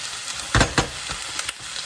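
Beef suya fries in a very hot pan with a steady sizzle, while a few sharp scraping stirs of a spatula stand out loud and close, and nobody speaks.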